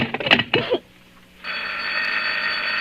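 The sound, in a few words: telephone ringing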